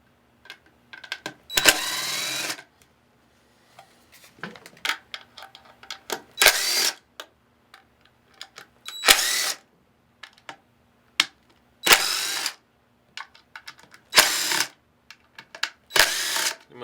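Cordless power screwdriver backing screws out of a Hi-Flo spa hot tub pump housing, six short loud whirring bursts spaced a few seconds apart, with clicks, handling noises and quiet gaps between them.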